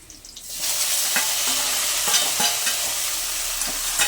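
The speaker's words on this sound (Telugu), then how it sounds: "ఆనియన్ అయితే గోల్డెన్ కలర్లోకి వచ్చింది కాబట్టి టొమాటో ముక్కలను కూడా వేసేద్దాం" Tomato pieces drop into a pan of golden fried onions and burst into a loud sizzle that holds steady, with scraping stirs and light clinks throughout.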